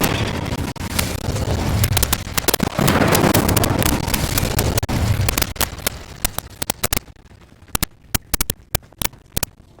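Incendio fire spell in Hogwarts Legacy roars as a dense burst of crackling flame for several seconds, then thins into scattered sharp pops and ticks over near silence.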